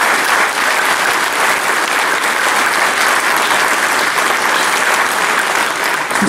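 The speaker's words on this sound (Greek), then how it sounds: "Γι' αυτό το μεγαλύτερο χειροκρότημα σας θέλω να είναι σε αυτό." A theater audience in Larissa applauds a stage performance with loud, continuous clapping that stays even and dense throughout, close and full with no voices standing out.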